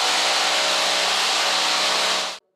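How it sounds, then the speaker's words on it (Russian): Workers replacing window frames in an apartment stairwell run a loud, continuous power tool, a dense, harsh grinding roar that holds steady and then cuts off abruptly. "Сверлят и стучат с самого утра, меняют рамы быстро."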